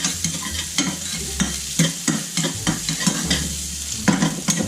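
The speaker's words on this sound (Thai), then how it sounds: "โอเคผัดให้มีกลิ่นหอมนะครับ" Chili being stir-fried in a hot pan for a squid and holy basil stir-fry, with a loud close sizzle under repeated scraping strokes of a spatula, no talk.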